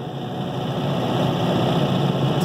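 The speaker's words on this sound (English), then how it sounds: "this machine goes through a little startup sequence for a few seconds, and then it'll rev up to power" An MP25 generator runs steadily after its startup sequence, a loud, even engine drone with a low rumble that holds constant throughout, no voices.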